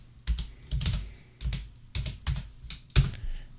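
Keys clatter on a computer keyboard while a search word is entered in the Vim editor, in short bursts of quick clicks separated by brief pauses, close and crisp with no voices.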